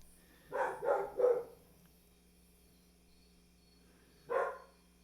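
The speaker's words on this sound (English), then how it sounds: "So the dog came back." A dog barks three times in quick succession, then once more after a long pause; the barks are fairly faint and distant-sounding, with no talking.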